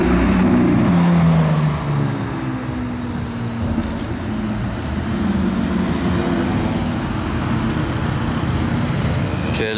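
A Lamborghini Aventador SVJ with Mansory carbon bodywork drives past during a city car-spotting outing, its engine loud at first and then fading into a steady rumble of surrounding traffic.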